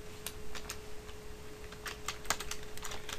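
Keys clatter on a computer keyboard in short irregular bursts of clicks, close and fairly quiet, with a faint steady hum beneath and no talk.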